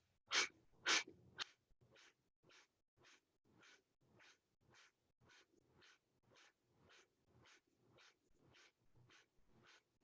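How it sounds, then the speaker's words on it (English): Deep rhythmic yoga breathing in a rapid round of breaths: two strong, sharp exhales open, followed by a long regular series of softer puffed breaths about every half second, close and quiet with no talk. "we'll go into another round of 35 breaths, breathing in."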